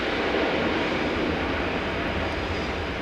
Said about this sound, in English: Fred Strongman then, into land, the Airbus A400M, the Atlas